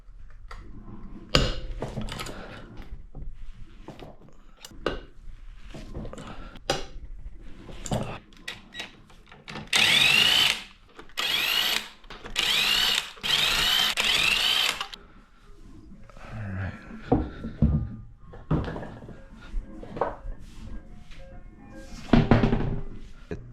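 Power drill spinning out small Torx screws on the front bumper of a 2018 Chevrolet Camaro ZL1, several short whirring bursts among clunks and handling noises, close by, with no talk.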